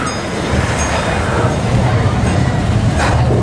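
Cedar Point roller coaster train rumbling along rails over an airtime hill, a steady loud roar sustained throughout with a voice talking over it.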